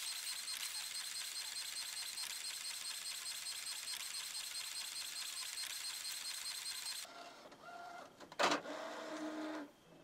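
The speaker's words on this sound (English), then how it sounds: "now the print that we just sent to the 3800 has been spooled and it's proceeding to print" An Epson Stylus Pro 3800 inkjet printer prints a photo with a steady high whirring carriage sweep, then a stretch of softer mechanical clicks and feed sounds near the end.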